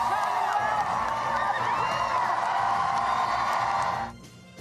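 A fired-up crowd of supporters cheers loudly and continuously at an election-night victory speech for a newly elected governor, a dense roar with whoops and shouts that cuts off abruptly near the end.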